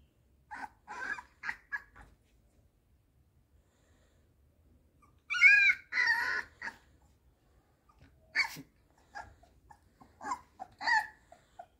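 Small black Labrador puppies let out scattered high yips and squeaky barks in short bursts, separated by quiet pauses.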